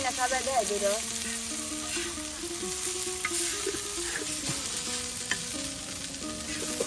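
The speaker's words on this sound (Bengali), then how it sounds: "আলু দিয়ে মাছ ভাজি" Fish frying with potatoes in hot oil in a village kitchen, a continuous bright sizzle with occasional stirring scrapes, while background music plays along underneath.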